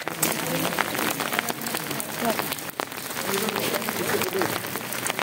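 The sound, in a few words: rain falling outdoors at polling station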